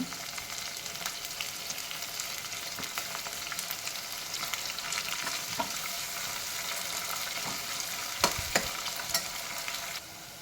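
Vegetable pulao ingredients with chopped coriander and mint frying in a pot, a continuous close sizzle with stirring scrapes and a few sharper clanks of the spoon near the end, no voices.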